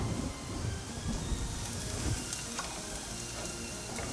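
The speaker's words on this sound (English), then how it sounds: "We can now place our chapati onto the pan." Chapati sizzling on a hot pan beside golden-fried onions and tomato, a steady close crackling hiss with small pops and stirring scrapes, continuous and alone without talk.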